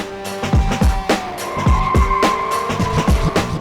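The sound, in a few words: Mini Cooper S cornering around a course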